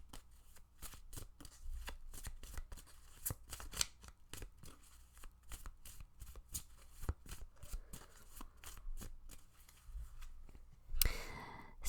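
Tarot cards being shuffled and drawn for a pick-a-card reading, a rapid string of soft papery flicks and riffles, close and quiet, ending in a brief louder shuffle burst.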